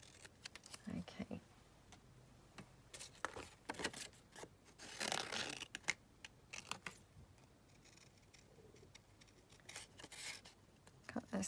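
Scissors or a blade snip through material being trimmed for Victorian-style cabochons, giving a string of short, close cuts and rustles with a faint voice now and then.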